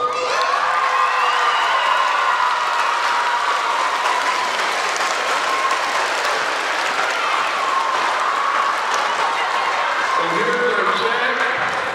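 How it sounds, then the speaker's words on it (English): A crowd of middle school students cheers and applauds loudly at a school assembly, a dense, sustained roar of clapping and shouting that fills the whole stretch, with a voice speaking faintly through it. "Now I hear you cheer really loud"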